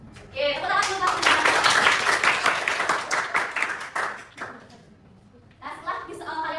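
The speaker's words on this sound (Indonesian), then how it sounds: "tepuk tangan dulu" A classroom of children claps together in a quick, dense burst for several seconds, fades, then starts up again, with voices mixed in during a primary school maths lesson.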